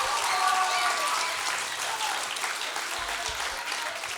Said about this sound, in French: Bonne main d'applaudissements chaleureuse pour eux.